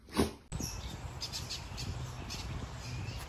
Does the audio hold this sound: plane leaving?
no